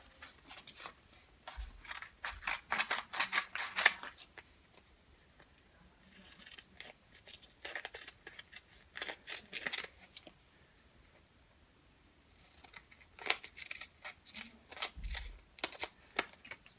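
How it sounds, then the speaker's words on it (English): Quiet, crisp snipping of scissors in quick bursts, pausing between runs of cuts, close by with no talking. "scissors do play a big part in your work"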